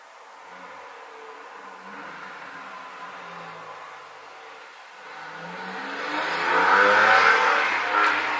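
Summer road traffic on the route de La Baule near a golf course comes in through an open window, distant cars passing with a soft whoosh that swells to a louder vehicle going by near the end.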